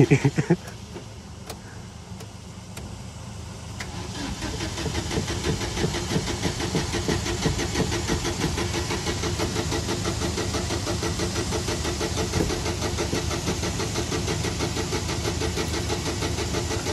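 A car that has sat unused for a month makes a few clicks before its engine catches, then settles into a steady, rough idle that runs on nearby without talk.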